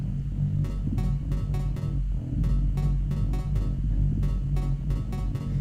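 Simple syncopated synth bass line hopping between octaves, sitting over a sustained low sub bass in an electronic track, with a tight repeating one-measure pattern and crisp percussive ticks on top.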